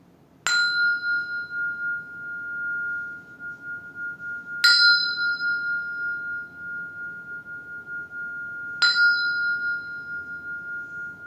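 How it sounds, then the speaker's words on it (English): A clear bell is struck three times at slow, even intervals, each ring sustaining and fading gently into quiet. "I'll sound the bell."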